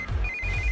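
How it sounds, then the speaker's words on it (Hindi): A phone ringtone from a sister's incoming call, a short bright electronic ringing tone over a low background rumble, heard briefly with no talking. "इस वक्त दीदी का फोन।"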